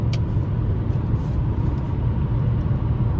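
A 2015 Chevrolet Malibu LT with the 2.5 engine cruising in sixth gear, giving a steady, close, low drone of road and engine noise inside the cabin.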